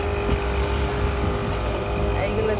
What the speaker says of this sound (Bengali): এইগুলো সব মাছের ট্রলার